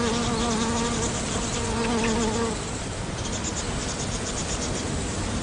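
Bees buzz steadily around water hyacinth flowers, a dense close drone with a lower hum that fades partway through, leaving a continuous insect buzz.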